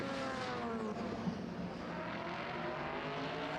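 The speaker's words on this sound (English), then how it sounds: "as he accelerates out of the pits up towards the Dunlop chicane" An LMP2 race car accelerates out of the pits toward the Dunlop chicane at the 2017 24 Hours of Le Mans, its engine a steady, loud drone with a rising harmonic whine throughout.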